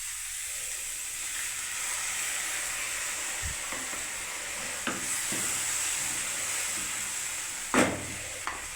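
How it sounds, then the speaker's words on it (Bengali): Water hits a hot pan of finely grated bottle gourd, raising a steady loud hiss of sizzling steam, broken by a few sharp utensil knocks near the end. "এবারে বন্ধুরা আমি একটু জল দিয়ে দিচ্ছি।"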